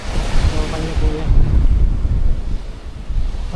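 Sea waves washing steadily near a small wooden outrigger boat on fairly calm water, with gusting wind buffeting the microphone and a faint murmur of a voice early on.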